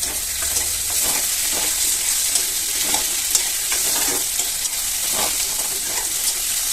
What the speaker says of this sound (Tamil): வெங்காயம் வதங்கிருச்சு இப்போ நம்ம வெட்டி வச்ச தக்காளியை அது கூட சேர்த்துக்கலாம்